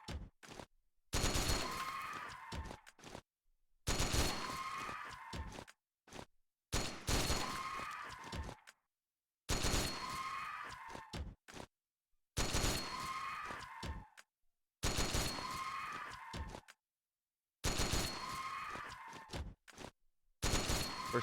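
Bursts of video game gunfire from Metal Gear Solid Touch come in repeated clusters of rapid shots separated by short silences, loud and close, with no talk.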